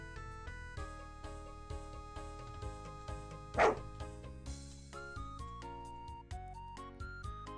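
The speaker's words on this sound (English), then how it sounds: "Yeah, that's a dog." A single short dog bark from an RPG Maker video game pops out once midway, loud and sharp over a steady, tinkling chiptune-style melody.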